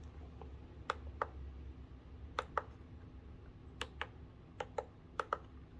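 Clicking of a Skyloong GK104 Pro mechanical keyboard's knob, pressed like a button: a dozen or so sharp, quiet clicks, some in quick pairs, spaced irregularly over soft background hum.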